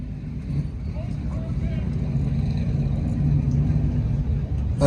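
A Dodge Hellcat and a heavy boxy SUV drag racing down a quarter-mile strip, heard as a continuous low engine rumble from some distance that slowly swells louder, with a voice talking over it.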